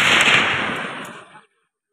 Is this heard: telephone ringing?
no